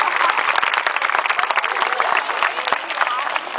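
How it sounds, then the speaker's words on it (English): An aquarium show crowd at Atlantis Long Island Aquarium in Riverhead, NY, claps for a performing sea lion, brisk scattered hand claps that stay lively throughout and taper slightly near the end. "I think that deserves some more applause right there."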